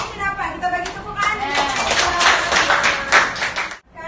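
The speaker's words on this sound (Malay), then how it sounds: "Kita bagi tepukan." A class of schoolchildren claps together in a quick burst of sharp, overlapping hand claps indoors, with children's voices chattering over the applause before it cuts off abruptly.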